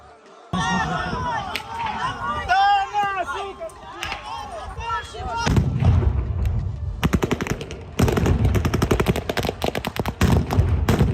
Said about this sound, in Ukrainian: Так само було чути постріли.